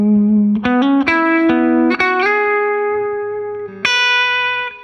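Clean electric guitar notes and chords ring out through a Twin Reverb amp model on a Fender Tone Master Pro, bright with lush reverb, played alone with long sustaining tails.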